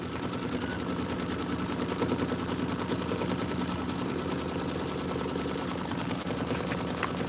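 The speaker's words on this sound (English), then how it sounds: "So go ahead and do your placement stitch." Sewing machine running a placement stitch on fabric for an autumn border, a fast, steady mechanical chatter, close and continuous with no pauses.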